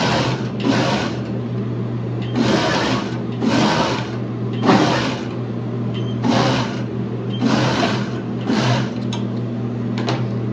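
A sewing machine stitches elastic onto swimwear in repeated bursts of rapid whirring, about eight runs separated by short pauses, close and clear with no talking.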